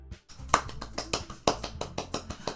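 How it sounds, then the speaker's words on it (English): Applause sound effect from the Doki Doki Literature Club visual novel: a sparse series of distinct, crisp claps at an uneven pace over a quiet musical background, some claps sharper and louder than others. "I am the first to start applauding."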